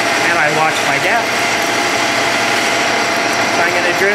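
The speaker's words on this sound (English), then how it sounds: "I'm going to drill in a bit, hesitate or back off to break the chip." A steady, high-pitched machine whine and grinding hum from a lathe drilling metal, pecking to break the chip, continues throughout, loud and close, with a voice talking over it.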